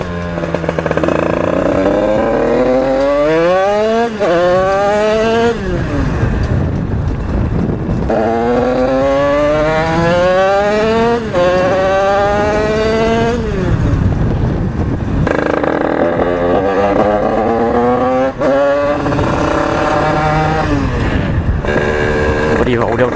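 A 50cc-class moped fitted with a KRM 80/90 exhaust pipe revs hard in repeated loud rising whines that climb and drop several times, recorded up close with wind noise and occasional talk.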